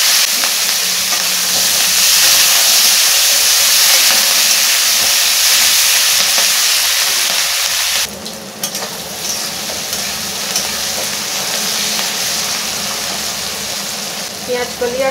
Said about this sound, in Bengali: এই তেলেতে টমেটো আর পেঁয়াজ কলিগুলো ভেজে নেব।